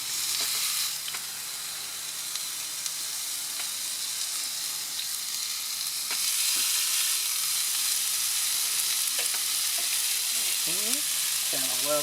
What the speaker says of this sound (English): Gotta love that sizzle.